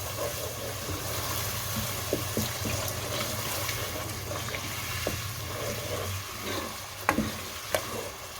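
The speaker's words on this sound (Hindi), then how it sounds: "पाँच से 7 मिनट हमने मसालों की अच्छे से भुनाई कर लेनी है।" Spices roast and sizzle in a pan for chana daal, splashed with spoonfuls of water as they cook, a steady close frying hiss with occasional stirring clicks and scrapes.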